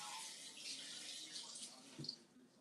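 Tap water runs quietly in a home kitchen as something is rinsed under the faucet during cake baking, a soft continuous splashing with a few small spatters.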